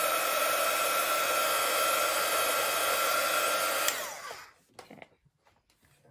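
A heat tool blows hot air onto craft glue on a card, giving a steady, loud rushing hiss for about four seconds before switching off, followed by a few soft handling taps and one short spoken word.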